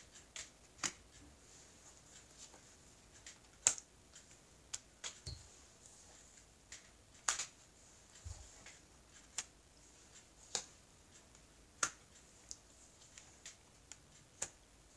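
Tarot cards cut and shuffled by hand: a series of sharp, crisp snaps and riffles recurring at irregular intervals, close and fairly quiet over a low steady room hiss, with no voices.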